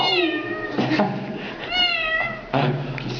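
A voice imitates a cat, calling out a few drawn-out meows in close succession, near and fairly loud.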